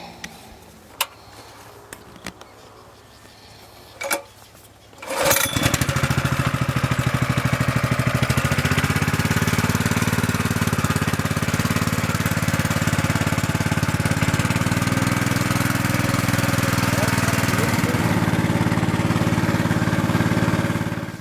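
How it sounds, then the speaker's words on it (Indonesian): A small engine-powered shredding machine chopping leaves and plant waste into compost on a potato farm at Ranu Pani runs loud and steady, starting abruptly after a few seconds of quiet with faint knocks and continuing as a dense, constant roar. "Saya punya mesin penyacahnya."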